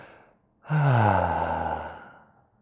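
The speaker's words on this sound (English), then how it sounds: "And exhale out the mouth." A long, audible exhale out through the mouth at the end of a yoga breathing round, rising suddenly after a held breath and fading over about two seconds, close and clear with no talking.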